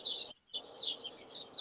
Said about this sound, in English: Oh, love the birds.